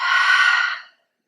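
A single deep, breathy exhale, close and clear, fading out into silence.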